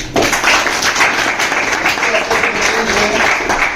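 Audience applause at a government higher secondary school awareness camp, a loud, continuous wash of many hands clapping that holds steady throughout the short stretch, with no words spoken over it.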